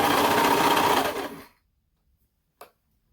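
A sewing machine stitches fabric for a doll outfit, running in a steady fast whir for over a second before stopping, followed by silence and one short mechanical click.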